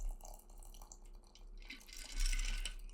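Liquid pours steadily from a bottle into a glass for a cocktail, a soft trickling and splashing that swells louder in the final second, with no talking over it.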